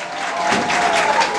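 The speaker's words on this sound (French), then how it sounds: "je vous demande d'applaudir à nouveau" Audience applause at a school singing contest final, a steady, fairly loud wash of many hands clapping that fills the whole brief moment.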